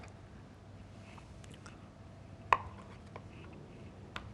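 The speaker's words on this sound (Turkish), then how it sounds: "patateslerimi şöyle ufak ufak doğrayacağım" A few sparse knife chops through boiled potatoes on a cutting board in a quiet room, one sharp and louder, the others soft and spaced apart.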